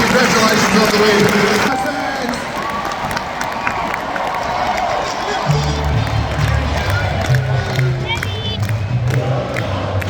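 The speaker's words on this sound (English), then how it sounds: "Please put your hands together for David Mundy, 19 seasons at Fremantle, winning 400 games, absolute champion of the game. Cheer him up" A crowd at a Fremantle football club event cheers and applauds for a retiring veteran player, a broad sustained roar of voices and clapping that stays loud throughout, with shouts rising out of it.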